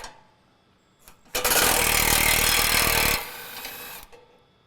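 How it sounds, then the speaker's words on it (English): A socket wrench, likely powered, removes a bolt from the skid plate of a 2017 Ford Powerstroke 6.7L crew cab truck, giving a loud, dense two-second whirring burst between quieter clicks and handling noises. "We'll just pull this bolt out."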